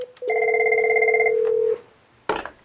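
An office desk telephone gives a single loud electronic ring tone of about a second and a half, then falls quiet before a short clunk, with no talking.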